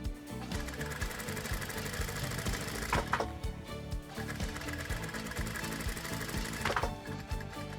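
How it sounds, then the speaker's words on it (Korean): A sewing machine runs in a tailor's shop in Daegu's Gyodong Market, a dull, rhythmic mechanical clatter going continuously, with brief bursts of faster stitching around the middle and near the end. "둔탁하지만 나름의 장단에 맞춰 돌아가는 재봉틀 소리마저도 정겹게 느껴지는 교동시장입니다."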